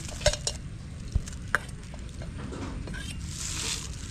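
Seasoned pork sisig is stirred in a hot pan, a spatula scraping and clacking against the metal in a few sharp knocks over a steady background sizzle.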